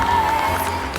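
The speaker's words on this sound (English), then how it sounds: "we need you to give a very large round of applause for all of your costume winners" Clapping from an audience at a summer tour event as costume winners are honoured, a brief wash of steady, fairly loud applause with a faint tone underneath.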